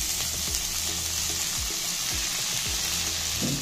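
Tomatoes frying in a pan with rice-dish ingredients give a steady, loud sizzle throughout, with low stirring scrapes and thumps recurring at a regular pace and no voices.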